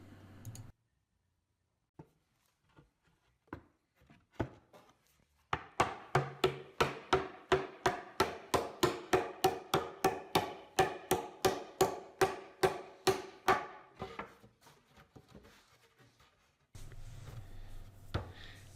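Mallet taps on plywood dovetailed drawer parts: a few scattered knocks, then a fast, steady run of about twenty sharp wooden blows, close and fairly loud, thinning out toward the end.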